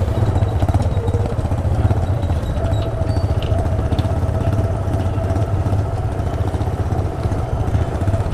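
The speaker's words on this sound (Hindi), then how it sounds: "तो लगेज के साथ आज बाइक चलानी है" A touring motorcycle loaded with luggage runs steadily with a close, continuous engine rumble and clatter at an even pace, and no one speaks.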